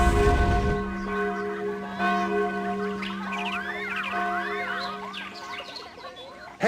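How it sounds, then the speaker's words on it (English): A struck bell tolls with a long, ringing sustain in the Sudeki video game, its hum decaying slowly while chirping, warbling animal or creature calls rise over it. "the alarm bells are ringing"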